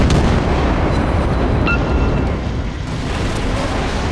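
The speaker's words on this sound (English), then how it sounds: "Main turret, hold up. So the guns rotate on this very slowly." Heavy warship main turret guns in World of Warships, a loud, dense, rumbling boom of cannon fire that fills the whole stretch and rolls on without a break.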